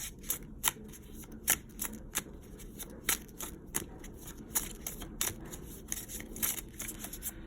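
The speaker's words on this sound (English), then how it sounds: "This is going to be the last deck I'm going to shuffle" Crisp riffling of a tarot card deck being shuffled repeatedly, fluttering bursts in a steady rhythm, close up with no talking.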